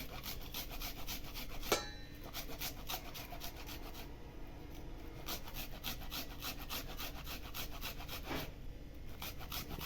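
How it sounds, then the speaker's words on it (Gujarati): Onion grated by hand for a rice pakora batter, a steady back-and-forth rasping scrape repeated in even strokes, close and alone, with one brief sharper knock partway through. "ડુંગળી છે તે છીણી દેવાની છે અંદર."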